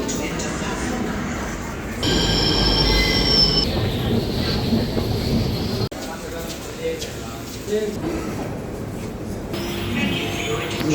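A metro train runs with loud rumbling and clattering, and high wheel squeals rise partway through. Ambient voices mix in and the noise level shifts as it moves.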